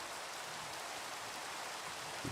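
Loud, steady rain pours down in a continuous dense hiss, alone with no talking.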